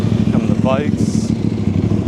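Motorcycles ride past at a cars-and-bikes show in Florida, producing a loud, close engine drone with a brief rising rev as people talk over it.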